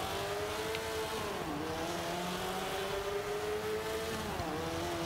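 A Subaru Impreza 22B race car engine in Forza 5 drones steadily through a C class race, a loud, continuous whine with brief dips as gears shift and revs climb again.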